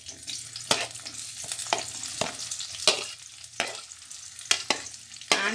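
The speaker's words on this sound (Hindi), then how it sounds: "ये मैंने कढ़ाई में ऑयल डाल दिया है एंड देन हम अनियन डाल देंगे।" Onions sizzle and fry in hot oil in a kadai, a steady close crackle broken by sharp scraping strokes of a spoon at irregular intervals, with no voices.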